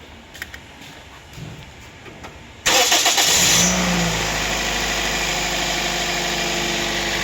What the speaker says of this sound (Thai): เดี๋ยวผมขอสตาร์ทรถยนต์นิดนึงนะครับ